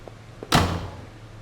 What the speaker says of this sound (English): The door was taped up and seemed to be stuck.